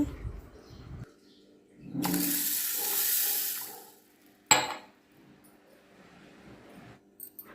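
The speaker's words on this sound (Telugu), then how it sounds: "పెసలు కడిగి మునిగేటట్టు వాటర్ పోసుకోవాలి" Water pours in a short, steady stream over mung beans in a glass for about two seconds, followed by a clink of glass and some faint handling noises.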